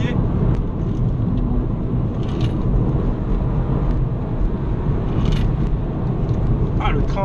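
A BMW 125i M (F20) is driven in sport mode, its steady engine and road rumble running loud and continuous beneath someone talking over it throughout.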